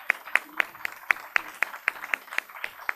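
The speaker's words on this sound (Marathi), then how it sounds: "अब तक 56 केतकीसाठी जोरदार टाळ्या होऊ देत" An audience at the final round of a Marathi solo-acting competition claps for award winner Ketaki Pande, a thin, steady run of individual hand claps at an even rhythm, fairly close and clear, with no speech over it.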